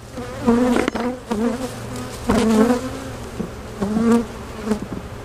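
Many honeybees buzz close by around a hive during hive splitting, in a dense, steady drone that swells and eases in waves.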